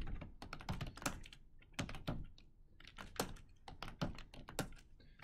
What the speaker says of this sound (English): And if I type in Caleb,